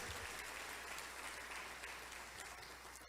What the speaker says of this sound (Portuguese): Dá um aplauso a ele aí